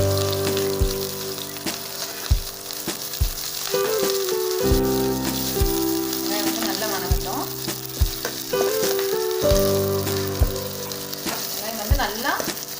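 Onions and green chillies with curry leaves frying in a pan for a simple gravy: a loud, steady sizzle broken by spatula knocks and scrapes against the pan, close up, with no talking.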